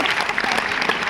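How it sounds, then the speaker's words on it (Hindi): Audience applause fills a kavi sammelan poetry gathering in Rohtak, a dense, steady wash of many hands clapping at once, close and loud throughout with no pauses. "ताली बजाइए हाथ उठा के जोरदार।"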